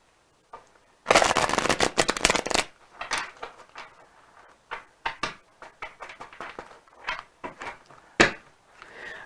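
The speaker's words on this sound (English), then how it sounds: "And we're going to shuffle one more time." A Celestial Tarot deck is shuffled by hand, a dense burst of riffling and slapping cards up close, followed by scattered softer taps and card flicks.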